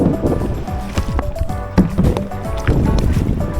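Kayak paddling on the sea off Grand Cayman, steady splashing and dripping of paddle strokes with water sloshing against the hull and some wind buffeting, loud and close, without talk.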